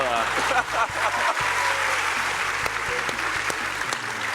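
A television talent show studio audience in Turkey applauding loudly and steadily throughout, with a voice talking over the clapping.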